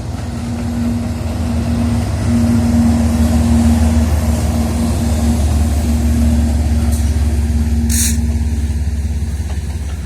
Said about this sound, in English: We'll jump ahead to the end of this train to see those OSB cars with their loads of wood and